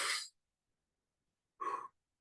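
Two short, soft breathy rushes of air through the nose, close up and separated by about a second of silence, the second one a little brighter.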